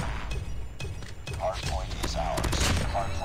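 Rapid bursts of gunfire from a Holger 26 in Call of Duty Mobile crackle close and loud in quick succession, mixed with a player talking over the shots.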